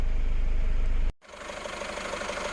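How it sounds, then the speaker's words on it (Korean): A loud, steady diesel engine of a 2015 SsangYong Turismo idling up close with the hood open, a rough, rumbling chug; the sound cuts out briefly partway through, then returns just as strongly. "디젤 차인 만큼 엔진 소리는 굉장히 우렁차죠"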